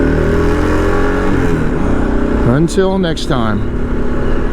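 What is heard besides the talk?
motorcycle ride on new Michelin Anakee tires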